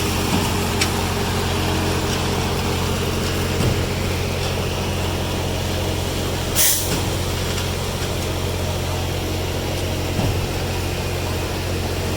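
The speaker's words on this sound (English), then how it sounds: "Trucks 8 and 9 are now here." Concrete trucks arriving at a pour for a building pad: a steady heavy diesel engine rumble throughout, broken by one sharp hiss of an air brake releasing partway through, with no voices.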